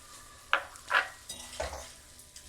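Cooked raw mango and jaggery are being stirred in a pan, heard as a few distinct scraping strokes of a spoon against the pan at a steady, unhurried rhythm, close and fairly quiet, with a faint sizzle between them and no talking.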